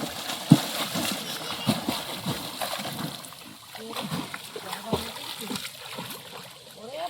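Water splashes and sloshes repeatedly as someone steps into a pond in the Sundarbans, with irregular close splashes and a sharp slap early on, while people talk over it.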